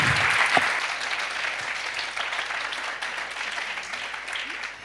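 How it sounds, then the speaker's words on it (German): Steady applause from an audience at a healthy-eating-for-children project event, a continuous even wash of clapping at moderate distance that thins slightly toward the end. "Das ist noch einmal dein Applaus"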